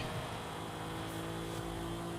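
A steady car engine drone from the Forza Horizon 5 racing video game hums continuously at an even pitch, with a faint rising whine partway through and no voices.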